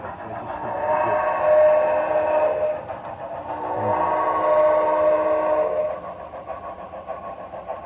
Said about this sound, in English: We're going to chase this Erie passenger train on Howard's layout today.